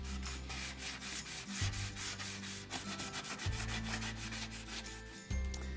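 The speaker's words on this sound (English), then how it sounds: "I'm gonna decide to start sanding the edge till I see the color that I wanna see" Steady rhythmic rubbing and scraping of a sanding block on painted wood, back-and-forth strokes close by, with a low hum in the background.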